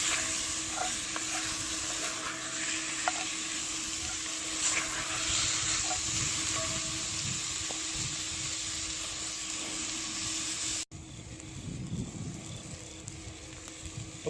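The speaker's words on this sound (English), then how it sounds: "We get the onions in there and get them all sauteed." Chopped onions sauté with browned chicken in a pot for chicken chili. A steady, soft sizzle and crackle of frying continues throughout, with a slight change in texture near the end.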